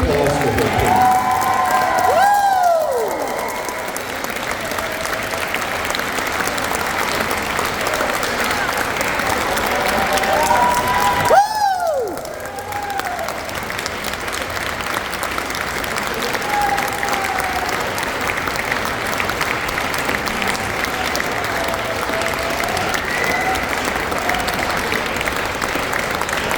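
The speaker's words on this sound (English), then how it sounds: "a huge round of applause for her." A banquet crowd at an awards night in a casino applauds in loud, sustained clapping that goes on for a long stretch, with whoops and a couple of shrill whistles rising above it.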